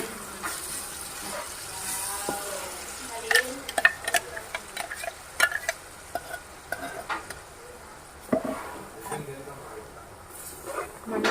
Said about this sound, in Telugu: టొమాటో పేస్ట్ మెత్తగా పట్టుకుని ఇందులో యాడ్ చేస్తున్నాం